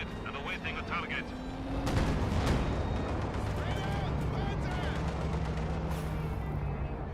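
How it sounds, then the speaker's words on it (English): Soviet artillery in the Company of Heroes 2 video game booms with heavy blasts over a dense rumbling battlefield din, while a commentator keeps talking throughout. "Soviet artillery is reloaded and awaiting a target."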